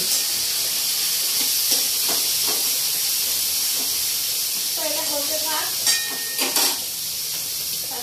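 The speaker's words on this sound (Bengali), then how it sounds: "দিদি এখন উচ্ছে আলু ভাজা হচ্ছে" Bitter gourd and potato fry in a pan with a steady, close hiss of sizzling oil, while people talk intermittently over it.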